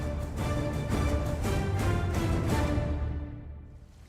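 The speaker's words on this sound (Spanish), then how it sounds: "Este es el río Duerna," The Duerna river in León, northern Spain, flowing steadily with a broad, even rush of water that fades out toward the end, with no voices.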